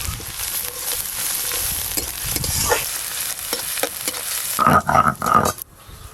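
Ginger, garlic and chopped onion frying in ghee with cumin seeds, a loud crackling sizzle mixed with stirring scrapes, ending in a burst of rapid metallic clatter against the pan before the sound drops away.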